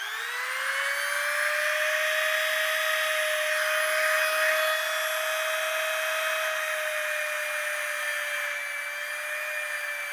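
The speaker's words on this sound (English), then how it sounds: "And then you just take your Dremel with a stone bit on it." A Dremel rotary tool fitted with a stone grinding bit works EVA foam for cosplay armor, giving a loud, steady high-pitched whine that holds for the full stretch, with no talk over it.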